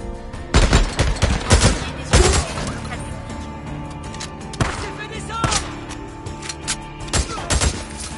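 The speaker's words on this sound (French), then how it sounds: "Plusieurs coups." Several gunshots in the video game Days Gone, sharp loud bursts scattered irregularly over a steady background hum, some in quick pairs.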